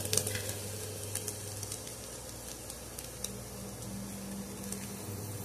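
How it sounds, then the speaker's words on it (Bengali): Coriander leaves frying in a pan of egg bhujia give a steady, close sizzle with light crackle and occasional stirring taps, all without talk. "সবশেষে ধনেপাতা দিয়ে একটু ভেজে নিয়ে নামিয়ে নেব"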